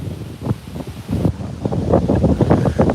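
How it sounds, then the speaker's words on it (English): Gusty wind from Hurricane Nicole buffets the microphone outdoors at a Walt Disney World boardwalk, a rough rumbling roar that surges and pulses in uneven bursts, with possible water or surf wash underneath and no talking. "you can hear the wind"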